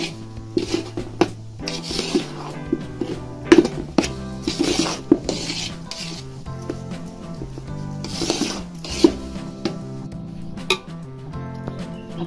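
Semolina roasting in a pan for sheera prasad, with scattered clinks and scrapes of a spoon against metal, a few sharp taps standing out over a low background hum, close by and without talk.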